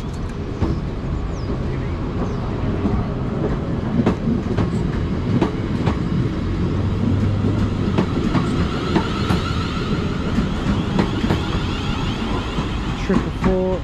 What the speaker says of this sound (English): the partner now is going to be the 1605 South Western Railway service to London Waterloo from Weymouth.